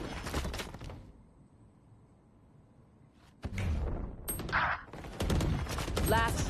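Gunfire from the tactical shooter Valorant comes in rapid bursts, starting with a volley, then a quiet lull before renewed heavy shooting with sharp shots and impacts that continues to the end.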